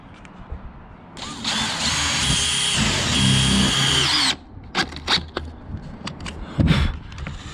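A power drill driving screws through fiberglass roofing whines steadily for about three seconds, then cuts off, followed by scattered knocks and handling sounds close by.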